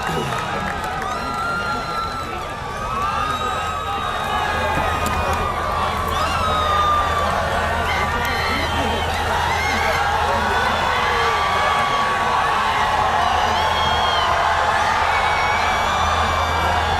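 A university audience applauding and cheering for a speech, a dense continuous wash of clapping and shouts that swells and holds steady, with some voices in the crowd.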